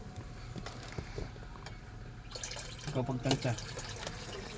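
Hot water poured into cup noodles in a kitchen, a splashing trickle building toward the end under casual talk in the background.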